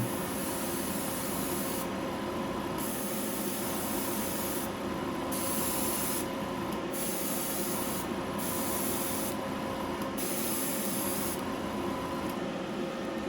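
Continuous airbrush hiss spraying Vallejo premium paint onto a carved mallard decoy, steady and close throughout with brief pauses in the upper hiss, no talking.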